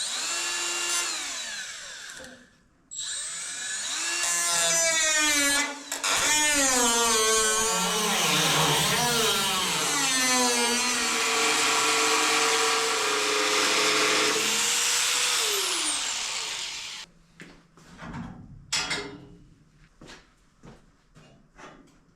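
A power tool cuts through the rocker panel body line on a Datsun 280Z, sending up a loud, continuous metallic whine with rising and falling pitch that runs for about fifteen seconds before breaking into short bursts.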